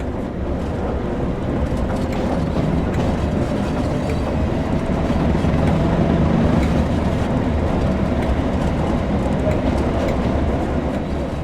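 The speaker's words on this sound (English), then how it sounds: "With the train now moving, it's possible to apply more power and focus on achieving a desired speed." Class 37 diesel locomotive moving along the Tees Valley Line in Train Sim World: a steady, rumbling engine drone with rolling wheel noise and faint clickety-clack, holding constant throughout.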